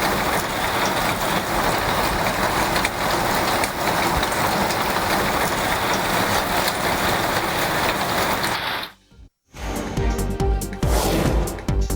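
Heavy evening rain in Tamil Nadu pours down in a dense, loud, continuous roar, broken briefly by a cut before the downpour resumes with engine noise mixed in.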